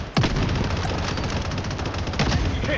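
Rapid gunfire in the mobile shooter Blood Strike during a team deathmatch, a dense, loud, continuous burst of shots with a couple of sharper cracks standing out.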